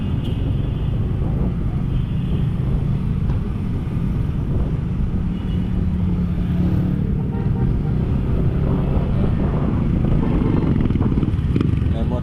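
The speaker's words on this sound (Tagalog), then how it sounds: "Motor dito sa loob, tricycle pasok." A motorized tricycle engine rumbles steadily and loudly close by as it enters, a constant low drone with wind buffeting over it.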